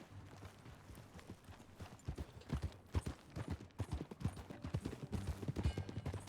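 Horse hooves clip-clopping at a riding pace in the video game Red Dead Redemption 2, a steady run of distinct close hoof thuds over a low ambient game hum, growing slightly louder and denser toward the end.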